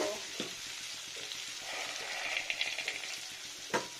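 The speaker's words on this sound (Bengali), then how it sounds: "ফ্রাই হবে সুন্দর করে আলুটাকে।" Potato pieces fry in oil in a pan with a steady, soft sizzle, broken by a few light clicks and scrapes of stirring.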